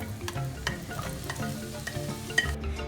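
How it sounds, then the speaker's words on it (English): Onions saute in a pan for bobotie, sizzling steadily with scraping stirs and occasional sharp clicks of a utensil against the pan, close and continuous with no talk. "firstly we're going to saute the onions until they're golden"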